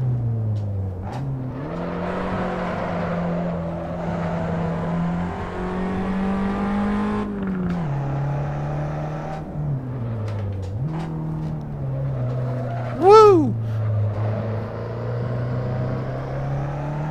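A Fiat car in the Assetto Corsa racing game drifting, its engine droning steadily and shifting pitch up and down as it revs, with a brief tyre squeal near the end and no talk.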